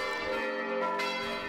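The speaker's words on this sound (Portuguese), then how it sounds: "o tocar dos sinos" Church bells ring at Easter in Prudentópolis, Paraná, in a rich, sustained chime, their overlapping tones ringing out together without pause.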